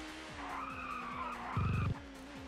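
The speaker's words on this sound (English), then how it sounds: "Slam on the brakes, get it around." A race car in a racing video game brakes hard and skids, its engine whining through quick downshifts before a short, loud tire squeal, then the engine picks up again.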